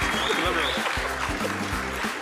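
Audience applause at a televised talent show performance, a continuous wash of crowd clapping layered under loud amplified music with a pulsing beat, with voices also present.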